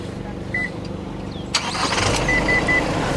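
A 2023 Isuzu D-Max X-Terrain pickup is started remotely from the key fob. After a quiet lead-in with a faint chirp, the engine cranks and catches with a sharp burst, then settles into a steady idle while a few short electronic beeps sound.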